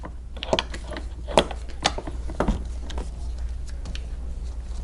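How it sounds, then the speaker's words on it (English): A 4mm Allen wrench tightens the seat arm bolt on a Pride Maxima three-wheel heavy duty scooter, a few faint, close clicks and scrapes of metal over a low steady hum. "with a 4mm Allen wrench, you'll go ahead and tighten this"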